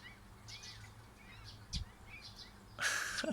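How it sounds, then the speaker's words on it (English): A small bird chirps at a newly put-up birdhouse: faint, scattered high chirps in two short bursts, the second brighter and closer, over a quiet background hum. "there's a bird in the new birdhouse"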